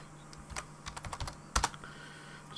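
Quick, uneven keystrokes on a computer keyboard, a burst of close, crisp taps followed by a sharper double clack, with faint room hum and no voice.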